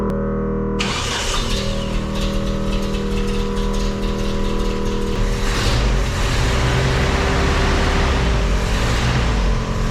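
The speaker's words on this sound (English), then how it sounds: "let's see if we can get her to fire up here." A Datsun engine with a Weber carburetor cranks and catches almost at once, then settles into a steady, loud idle that runs without a break.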